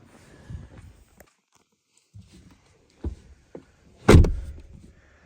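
Quiet interior of a BMW i3 with soft clicks and rustles, then a sharp mechanical thunk and clatter of a car door opening, fairly close.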